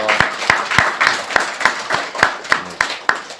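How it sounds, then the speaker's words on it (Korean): A church congregation claps to welcome newly registered members at a Sunday service, about a dozen loud, evenly spaced claps in a steady rhythm close by. "우리 모르시는 분들을 위해서 다시 한번 박수로 환영하겠습니다"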